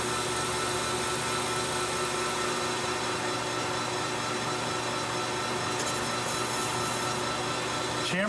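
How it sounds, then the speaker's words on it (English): A lathe chamfers the corners of a machined part for a large predatory fishing lure, a steady close-up whirring grind with a rough cutting texture and a faint scrape near the end. "I'm going to chamfer the corners"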